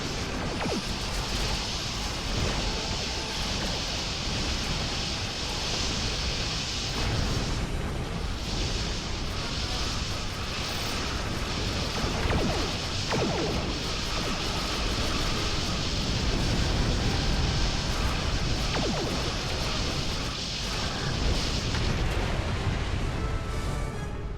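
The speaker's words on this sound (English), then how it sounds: "Come on, explode." A ship exploding in the video game Star Trek Online is a long, loud, continuous roar of blasts and rumbling debris. Dense booming carries on for over twenty seconds with slight swells.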